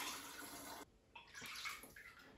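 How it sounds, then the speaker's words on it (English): Jamaican rum punch poured through a funnel into a bottle, a close, quiet gurgling stream that briefly cuts off, then resumes in uneven glugs and splashes. "Just need a funnel. And just go ahead and pour it in that bottle."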